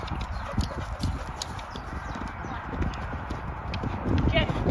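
A ridden horse's hooves thud rhythmically over grass while popping small jumps in a field, a steady clip-clop running under continuous talking.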